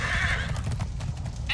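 Horses whinny and gallop in the Minecraft Story Mode video game, a loud, close burst of neighing over continuous hoofbeats, with a second high whinny at the very end.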